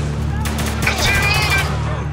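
Gunfire rattles in the shooter video game Spec Ops: The Line as rapid, overlapping bursts that run steadily through the moment, with a voice speaking over the shots.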